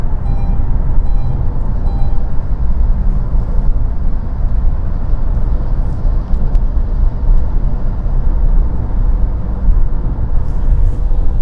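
A Chinese car developed in cooperation with Land Rover cruises at high speed, giving a steady, close cabin drone of road and engine noise that holds evenly throughout with no talking.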